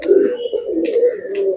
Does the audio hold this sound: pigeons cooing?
yes